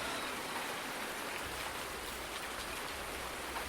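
Steady rain in the video game Farming Simulator 19 falls as an even, continuous hiss, soft and unbroken with no voices.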